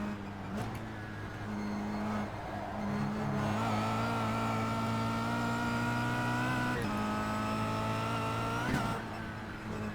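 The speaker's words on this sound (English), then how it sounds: "I love that noise it makes for the rev limiter." A race car engine held at high revs against the rev limiter, a steady buzzing drone with slight pitch shifts and faint stutters, heard at moderate distance and fairly quiet, without any talking.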